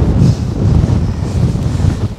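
Strong wind buffets a microphone on an exposed mountain hike in the Lake District, a loud continuous rumbling roar with gusty swells and no voices.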